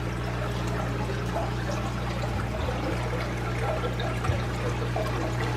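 Water from an aquarium overflow and sump system trickles and splashes steadily over a low mechanical hum, a continuous close pouring sound with no pauses.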